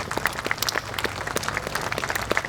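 An audience at a police department's 100th anniversary ceremony applauds the Honor Guard, sending up a steady wash of many clapping hands with a few sharper claps standing out.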